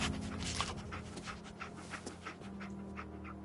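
Dogmeat, the canine companion in Fallout 4, pants in quick rhythmic breaths up close, with a brief whimpering edge, alone with no talk over it.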